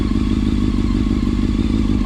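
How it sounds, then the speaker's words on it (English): A 2004 Honda CBR 600 F4i motorcycle engine idles steadily and loudly up close, a constant rumbling drone with a faint mechanical clatter and no talking. "I can start it up for you guys really quick. She pretty much starts up right away, idles perfectly, cold starts."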